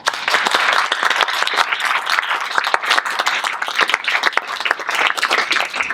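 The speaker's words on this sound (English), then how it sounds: "So can we give another round of applause?" An audience at a talk on a genetic ancestry project gives a round of applause: a moderate crowd of distinct claps, uneven and lively, sustained throughout without speech.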